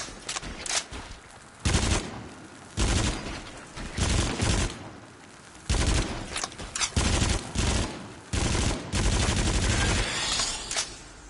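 Uzi submachine guns rattle off repeated loud bursts in a video game boss-fight level, with a steady rhythm of short automatic volleys separated by brief gaps.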